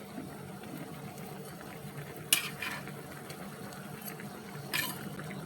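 Fried hilsa fish stirred into a pot of curry with aubergine and potato, a faint, soft bubbling and scraping with two brief sharper clinks of a utensil against the pot.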